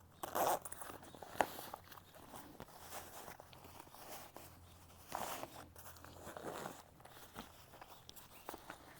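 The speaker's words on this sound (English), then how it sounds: "just a nice big strong YKK zipper" A big, strong YKK zipper on a snake gaiter being zipped up over a boot, with a few quiet rasping pulls and rustling handling noises at low volume.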